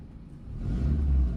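Car engine revving gently with the clutch half engaged on a slope, a low rumble that swells midway and holds, close and steady with no talking.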